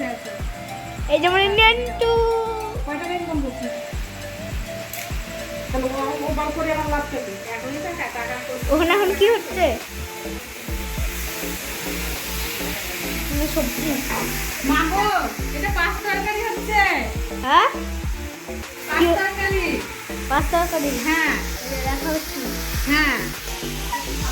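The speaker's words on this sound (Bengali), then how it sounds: "দিদি রান্না করতে আরম্ভ করে দিয়েছে মাটনটা" Mutton frying with spices in a hot pan gives a steady, loud sizzle that runs throughout, with people talking over it.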